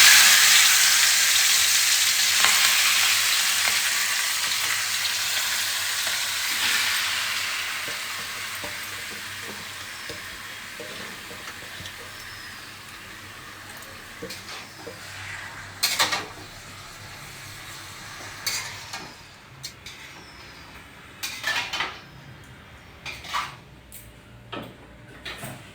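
Marinated chicken sizzles loudly in hot oil in a pan, a strong broadband hiss that slowly fades, with scattered scraping and clinking stirring strokes growing more frequent toward the end; no talking.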